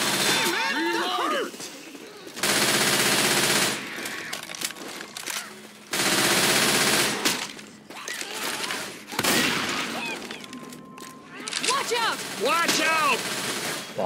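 Heavy automatic gunfire in the zombie shooter Left 4 Dead 2, loud repeated bursts separated by short gaps, mixed with game voices and shouting.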